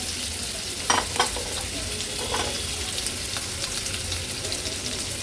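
Finely chopped medium onion frying in a tablespoon of hot oil gives a steady, dense sizzle close up, with a few soft stirring clicks early on and no voices.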